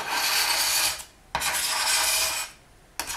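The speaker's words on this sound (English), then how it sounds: "now you'll bring over your tissue blade and you just start scraping" A tissue blade scrapes dried paint off a polymer clay tile in two long, loud rasping strokes, each lasting over a second, with a short pause between and a third stroke starting at the end.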